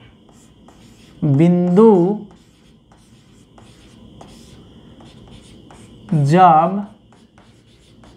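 Writing on a board during an electrostatics physics lecture, heard as soft, intermittent scratching strokes between two short bursts of a teacher's speech.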